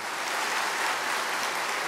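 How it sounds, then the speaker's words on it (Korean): Church seminar audience applauding, a steady even patter of many hands clapping together, moderately loud and continuous with no speech. "박수 한번 칠까요?"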